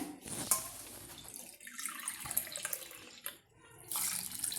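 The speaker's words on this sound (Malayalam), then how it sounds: "ഇതിലേക്ക് നമുക്ക് വെള്ളം ഒഴിക്കുകയാണ്" Water pours into a cooking pot from a cup for a kalan curry, a soft gurgling splash that runs for a few seconds, then stops and starts again.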